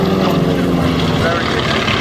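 Loud T-28 propeller warbirds droning past close by at an airshow, a thick steady engine roar with a rough, pulsing texture.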